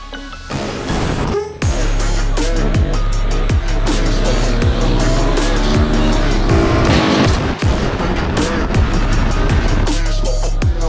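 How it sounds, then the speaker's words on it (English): Supermoto motorcycle engines race past in quick succession, loud and close, with revving, downshifts and brief tire squeals layered over a constant low drone for about eleven seconds. "Ready to start the engines?"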